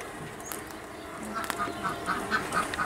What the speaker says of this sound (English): You can hear the ducks in the background.